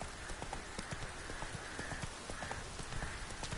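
Roach, a horse in the video game The Witcher 3, gallops in a steady rapid clip-clop of hooves over a constant ambient bed, continuous for the whole stretch.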